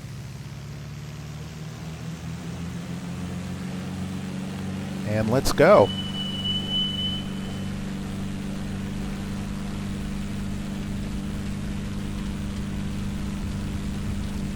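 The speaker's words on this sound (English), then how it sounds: "I'm going to rev up the engine." A small propeller airplane engine runs as a steady hum under a person's voice, with a brief louder surge in the middle as it revs up for takeoff.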